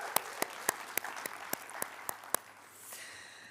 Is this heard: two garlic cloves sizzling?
no